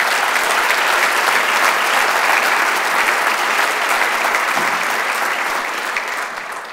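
An audience at a teachers and staff tribute dinner applauds award winners, a dense, steady wash of clapping from many hands that carries on alone and begins to fade near the end.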